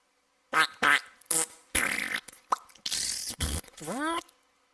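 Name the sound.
fart sound effect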